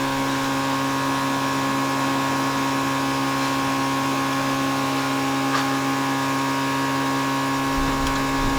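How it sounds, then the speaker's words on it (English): An electric fuel pump fills an abandoned Chevy Impala with fresh gas, giving a steady, loud droning whine with layered tonal hum that holds unchanged from start to finish. "That pump pumps out pretty fast."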